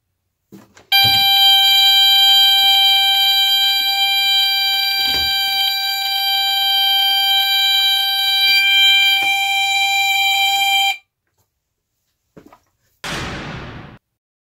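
A Bib Video Alarm anti-theft device for a Beta VCR blares one loud, steady, piercing electronic tone for about ten seconds, then cuts off abruptly, followed by a brief rustle.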